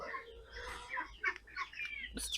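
A broody hen sitting on eggs in a coop clucks several times in short, soft bursts, close by and fairly quiet, with one sharper cluck at the end.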